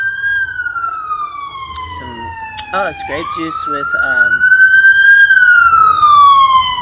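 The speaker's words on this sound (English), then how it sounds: "here comes the sirens" An emergency vehicle siren wails as it passes along a small city street, rising and falling across the whole stretch and growing louder near the end, while a person talks briefly over it.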